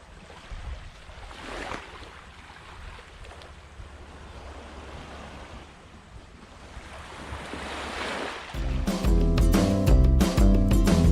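Ocean waves wash onto a beach at Long Beach, Phu Quoc, Vietnam, as a broad rushing surf with gusting wind noise on the microphone. Loud music with a thumping beat cuts in near the end.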